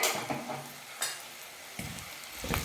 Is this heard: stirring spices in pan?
yes